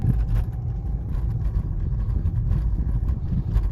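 Ford EcoSport engine drone heard from inside the cabin while driving, a steady low rumble with road noise, constant and moderately loud, no speech over it.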